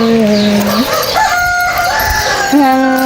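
A rooster crows loudly and close, one long drawn-out cock-a-doodle-doo rising and falling, with clucking fowl and farmyard noise behind it.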